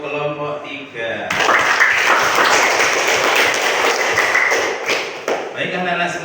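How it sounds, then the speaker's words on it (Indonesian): Classroom students clap for a group, a dense burst of applause lasting several seconds, with a teacher's voice before and after. "Tepuk tangan untuk kelompok 3."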